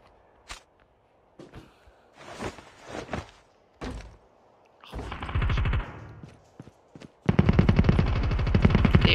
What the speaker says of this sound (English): There are people shooting